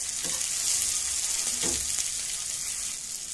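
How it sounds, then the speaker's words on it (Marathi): Thecha chili paste roasting in a pan for a stuffed gilki dish, giving a steady, close sizzle and fry hiss with a couple of soft stirring scrapes, no talking. "म्हणून चांगला कलसवू द्यायचा याचा सुगंध सुटेपर्यंत."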